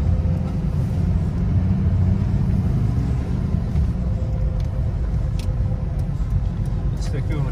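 A 2005 Chevy Silverado with the 6.6 Duramax diesel on a short drive, a constant loud low road rumble and engine drone with no distinct revs, heard from inside the moving truck.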